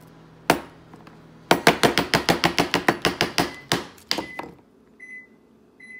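A knife chops food on a cutting board in a quick run of about a dozen sharp, evenly spaced strikes, preceded by one isolated hit and followed by a few scattered knocks and a brief electronic beep.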